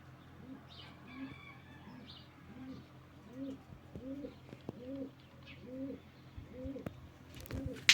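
Young pigeons coo in a steady repeated rhythm during outdoor flight training, the soft rolling coos recurring about every half second, with faint chirps above and a brief handling noise at the end.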